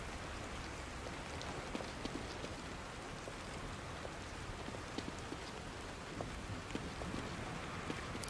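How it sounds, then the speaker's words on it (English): Steady rain in The Evil Within video game, a continuous hiss of drops on hard surfaces with scattered individual patters, fairly quiet and unbroken throughout, with no talking. "Rain is gonna wash away any evidence."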